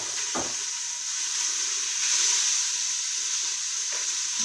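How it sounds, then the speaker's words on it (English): Onions for a cabbage and celery soup sizzle and fry steadily in a pan, a continuous close hiss with a brief stir or clatter near the start and end. "We are going to turn down the onions and just let them simmer for a bit and cook down."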